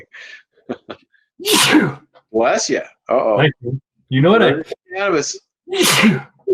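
Two sharp, forceful human sneezes burst out close by, separated by a few seconds and surrounded by casual conversation.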